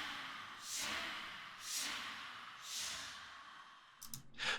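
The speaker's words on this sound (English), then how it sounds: "Finally, I just want to show you these vocal shards." Audio Imperia Chorus vocal shards form a soft rhythmic texture of breathy, white-noise-like whooshes, three slow swells followed by a brief burst of quick clicking pulses, with no one talking.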